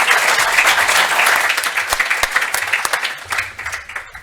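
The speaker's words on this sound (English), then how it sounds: "give a very warm round of applause to our fantastic panelists" A briefing audience gives loud, warm applause for the panelists, a dense burst of clapping that thins into scattered individual claps as it fades toward the end.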